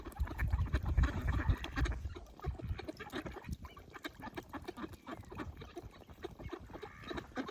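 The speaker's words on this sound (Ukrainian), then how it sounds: "Яка кількість качок" A crowd of ducks quacks and chatters continuously nearby, overlapping calls forming a busy, noisy flock sound with no talking.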